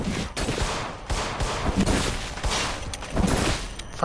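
Rapid, repeated gunfire while shooting enemies in the In Sound Mind video game, loud and close, with a dense string of shots running throughout.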